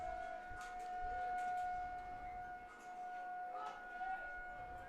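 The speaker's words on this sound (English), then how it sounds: "hoping maybe that siren will shut off." A city civil defense siren wails steadily in the distance during a high school baseball game at a state tournament, a faint sustained tone over light background noise.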